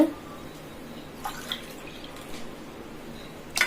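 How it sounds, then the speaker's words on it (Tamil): Water is poured into a pot of white sorghum for cooking, giving a quiet, steady, soft splashing hiss with a few faint drips and clinks. "இதுக்கு தண்ணி ஊற்றிக்கிறேன்"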